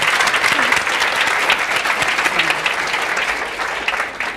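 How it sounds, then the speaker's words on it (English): A large audience applauds its speakers at the close of a science festival afternoon session, the dense, steady clapping holding throughout before beginning to thin near the end. "I'd like you to join me in a round of applause for our speakers this afternoon."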